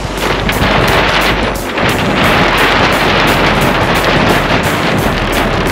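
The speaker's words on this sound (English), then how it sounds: "Wind's picking up." Strong wind at a Laser sailing regatta at Palm Beach Sailing Club, Florida, roaring steadily and loudly into the microphone with gusty buffeting throughout.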